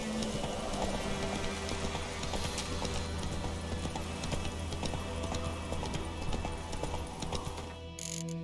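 Roach, the horse in The Witcher 3 video game, gallops with steady rhythmic hoof clip-clops against in-game ambience and a low drone, continuing for several seconds before the sound cuts off near the end.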